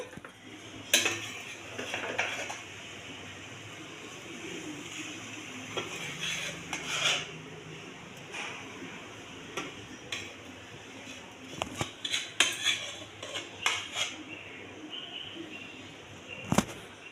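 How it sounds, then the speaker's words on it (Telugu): Bagara rice is spooned from a pot into a serving bowl, with clinking metal spoon scrapes and knocks against the cookware, irregular and close, and soft background hum between the hits. "ఇది సర్వింగ్ బౌల్లోకి తీసుకోవాలి"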